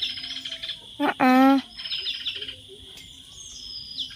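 Red-whiskered bulbuls calling nearby, a series of bright, warbling chirps and whistles repeating across the stretch, with a person's brief vocal sound in the middle.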